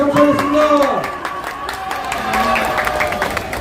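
Crowd at a Saturday citizens' rally applauds warmly for a lawyer, steady dense clapping and some cheering, fairly loud, with a voice or amplified tones audible over the start.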